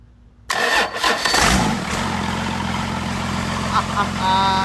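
An engine in a shop-built vehicle cranks and fires up, then settles into a steady, loud idle with a low rumble close by, continuing without talk.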